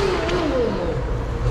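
A car engine revs loudly along a city boulevard in Zugdidi, Georgia, a sustained rising and falling roar of a passing show-off car, close and dominant over street noise.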